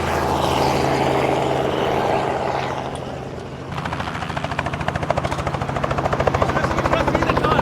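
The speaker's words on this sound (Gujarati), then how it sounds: "let's go for the helicopter ride" Helicopter engine and rotor heard from inside the cabin during a sightseeing ride, a loud steady drone that dips briefly and then returns with a faster rhythmic chop.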